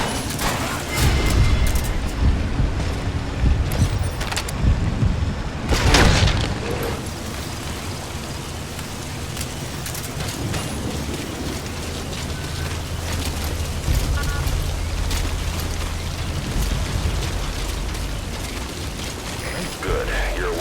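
A C4 charge detonates in Metal Gear Solid 5: The Phantom Pain, with loud booming blasts early on, then a long rumbling, crackling aftermath with mechanical game sounds layered underneath.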